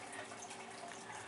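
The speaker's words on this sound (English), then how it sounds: "I have a nice little waterfall effect going on in this one" An aquarium filter spills a small waterfall into a Chinese water dragon's reptile tank, a faint, continuous trickle and splash of falling water with no voices.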